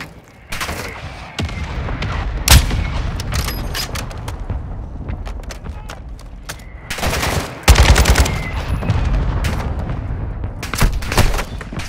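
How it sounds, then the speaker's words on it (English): Mortar strike in the MW2 DMZ game: heavy explosions slamming down in bursts between rattles of automatic gunfire, loud and close with rumbling tails, and no voices. "Mortar strike inbound now."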